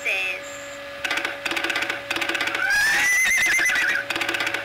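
A horse whinnies in the video game Starfall amid rapid electronic game sounds and chimes, with a steady hum underneath and a rising tonal sweep near the middle.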